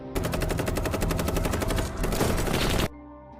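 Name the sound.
gunfire from armed group in film scene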